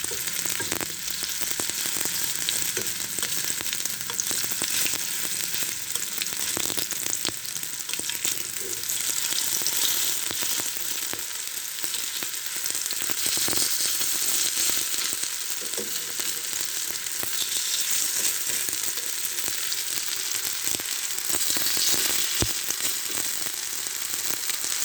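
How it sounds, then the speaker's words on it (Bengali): Tomato frying in hot oil for potato-tomato chops, the oil spattering and sizzling in a dense, continuous hiss with scattered sharp crackles, close and steady throughout without speech. "একটু ছেটকাচ্ছে কেন জানেন? টমেটো দিয়েছি তার জন্য"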